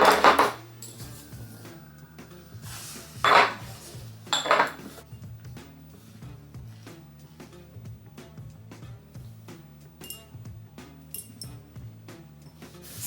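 Glass candle jars for fall clink and chink against each other as they are unpacked, a few louder knocks early on followed by light, scattered taps, close by with no talking.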